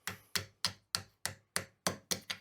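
Copper from a pipe being hammered over a ball peen hammer clamped in a vise as a forming stake: nine sharp metallic blows at a steady rhythm, close and loud, with no talk.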